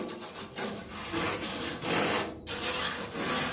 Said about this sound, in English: And I'll take a wire brush while it's still wet. And I'll just kind of agitate it a little bit.